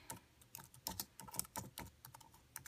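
Typing on a computer keyboard in a lesson-planning session, a quiet, uneven run of soft key clacks with short bursts and pauses, close and alone without talk.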